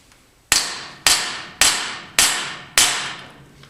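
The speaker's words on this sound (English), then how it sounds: "throw it up in my bullet puller, and hopefully with a few whacks this just comes right out on us" Five sharp, evenly spaced whacks of an inertia bullet puller knocking a .308 bullet from a 7.62x39 cartridge, each a loud close impact with a short ringing decay.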